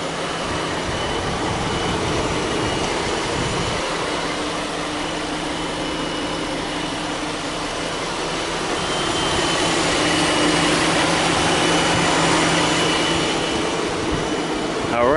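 A Jeep Grand Cherokee Limited 4x4 with a 3.6-liter Pentastar V6 runs steadily under the open hood, a continuous loud engine whir with a constant hum that swells slightly toward the end.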